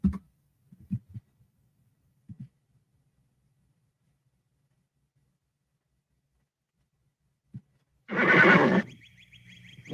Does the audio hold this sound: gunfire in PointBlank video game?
no